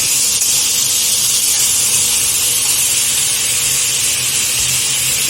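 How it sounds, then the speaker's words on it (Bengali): Bell peppers fry in a pan, giving a loud, steady, close sizzling hiss that continues without pause. "সিমলা মির্চিটাকে ভেজে নিই ভালো করে"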